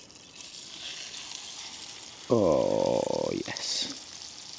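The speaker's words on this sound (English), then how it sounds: "We're just cooking in a little bit of butter tonight. This steak is huge." Pieces of a large steak fry in a little butter over a woodland campfire, with a steady bright sizzle throughout and a brief spoken exclamation partway through.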